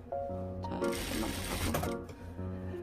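A sewing machine runs steadily, stitching a drop-shoulder T-shirt sleeve seam in one continuous pass, with a loud rapid mechanical whir rising to a dense burst mid-stitch, the motor hum audible at start and end.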